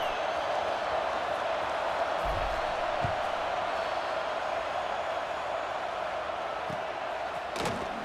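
A college football stadium crowd sends up a steady, distant roar throughout, with a few dull thumps and knocks along the way.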